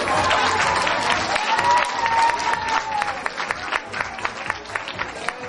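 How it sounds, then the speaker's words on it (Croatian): Applause from a New Year's Eve gathering, a broad wash of clapping with crowd noise and some voices that settles into scattered, sharper claps toward the end. "Još jedan veliki aplauz."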